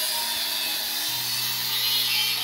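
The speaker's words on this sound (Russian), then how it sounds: "Это что, твоя болгарка?" Angle grinder running while a cemetery fence is being made, a steady high-pitched whine that holds throughout with a slight shift in pitch partway, loud and alone without talk.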